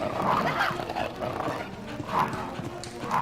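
Dog barking in the video game Resident Evil, a few loud, rough barks scattered over a noisy game soundtrack, with a voice talking over part of it.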